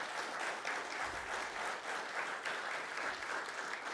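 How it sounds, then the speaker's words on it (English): Sustained applause from an audience at an EMS awards ceremony, steady and dense throughout with no voices standing out. "So let's give them a round of applause"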